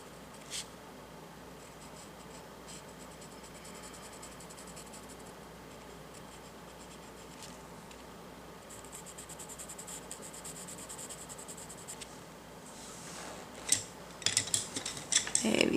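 A colored pencil tip scratches steadily across paper in a continuous close, soft scribble with brief louder strokes, and the rubbing grows busier and louder toward the end.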